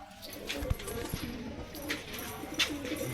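Pigeons coo in a loft, low and somewhat distant, with scattered knocks and rustles around them and a few faint chirps.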